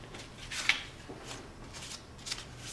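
Scissors cut through a piece of card, giving soft snipping and papery rustles, close and quiet, with a few brief crisp accents over low background noise.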